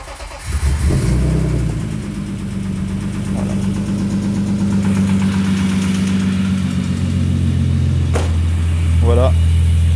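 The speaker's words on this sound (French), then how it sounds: "Le moteur tourne" A car engine with an air leak at the injection intake turns over and catches, then runs with a steady low hum and slight revving, close by, with some speech faintly beneath it.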